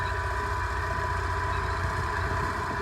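A T-150 tractor engine pulling a disc harrow over a field during soil tillage for winter wheat, a loud, steady diesel drone with a low rhythmic throb throughout and no talking.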